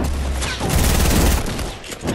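Gunfire in Fortnite hits an enemy: a loud, close stream of rapid shots runs for most of the moment, tapering off before a final short burst.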